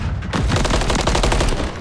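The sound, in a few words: gunshots in Call of Duty video game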